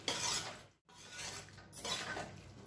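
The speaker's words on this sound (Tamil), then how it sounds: "இப்ப தேங்காய் சேர்த்துட்டு இந்த மசாலாவை நல்லா வதக்கிக்கலாம்." Coconut masala for a cauliflower fry is stirred and sautéed in a pan, producing a scraping, hissing wash with a brief break, close up and without talk.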